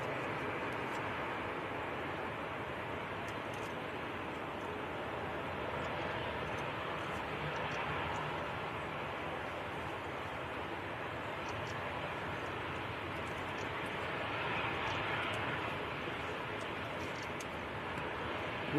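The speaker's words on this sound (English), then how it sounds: "Aer Lingus coming across as well, so we're going to get an ATR departure" An Aer Lingus ATR turboprop departs Manchester Airport in windy weather, a steady broadband engine roar that holds for the whole stretch with slight swells, fairly distant and mixed with wind noise.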